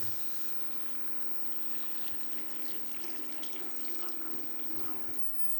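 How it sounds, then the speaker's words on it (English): Water is poured from a tap into a pot over chunks of peeled pumpkin as a steady, moderately faint splashing stream that runs throughout, with a low hum beneath it. "Then I'm going to top it off with some water."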